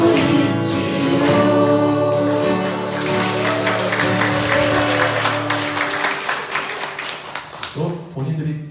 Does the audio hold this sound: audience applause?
yes